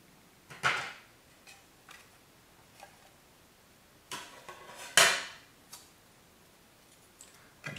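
A network socket is plugged into a plastic trim wheel case for a flight control kit, heard as a series of close, sharp clicks and taps with a louder snap partway through and quiet between.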